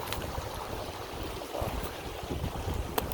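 High water rushes steadily down an irrigation ditch in the high desert, a continuous broadband wash of flowing water with some wind buffeting, close and unbroken throughout.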